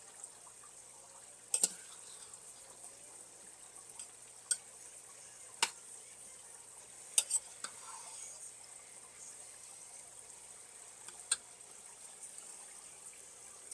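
Vegetables stirred into a pot of homemade hamburger soup: quiet soft scraping and sloshing, with a few sharp clinks of the spoon against the pot scattered through the stretch.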